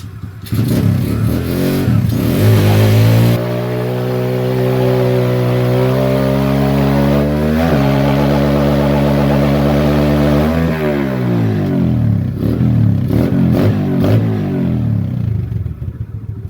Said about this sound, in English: doing a burnout with your new tires